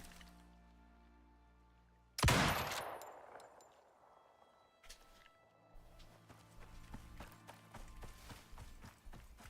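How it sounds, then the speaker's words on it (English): A loud burst of gunfire in the video game Icarus, followed by a rapid series of fainter distant shots and footsteps. "Hearing a lot of gunshots, Dread."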